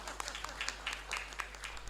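A church congregation applauds during a worship service with faint, quick, scattered clapping, heard at a distance under a speaking voice.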